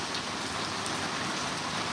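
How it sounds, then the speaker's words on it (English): Steady rain falls without pause, a dense, even hiss of drops near a highway viaduct, loud and continuous with no voices. "I might have to run in this rain"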